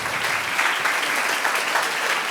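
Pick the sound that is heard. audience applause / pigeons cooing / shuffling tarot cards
audience applause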